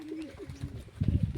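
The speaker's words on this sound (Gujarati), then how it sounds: "પંખાગળ ને પલ ને ફેન્ટા ને એવા કબૂતર છે" Pigeons coo in a loft: fantail, pals and fenta breeds. Low, throaty, rolling coos come from several birds nearby and grow louder and more overlapping toward the end, with no voices.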